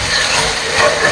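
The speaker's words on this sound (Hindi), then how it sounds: "अब इसे हम अच्छी तरह से भून लेंगे, ब्राउन होने तक हमें प्याज को भूनना है।" Chopped onions frying in oil in a pan while being browned for rajma, giving a steady, loud sizzling hiss close by.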